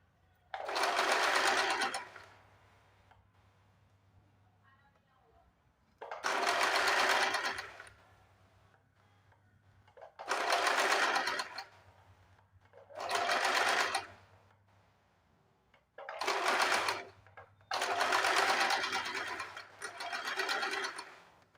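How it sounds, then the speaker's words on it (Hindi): A sewing machine stitching a katori blouse runs in seven loud bursts of one to two seconds each, separated by quiet pauses, with no talking. "इसको एक और सिलाई लगा देंगे ताकि जो हमने सिलाई लगाई है वो निकलेगी नहीं।"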